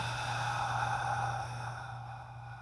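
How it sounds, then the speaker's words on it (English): Steady, soft breath drawn through a closed mouth with slight tension at the back of the throat, a gentle Ujjayi-style hiss that holds evenly and fades a little toward the end, close and alone. "you can extend your exhale by putting a little bit of tension at the back of your throat"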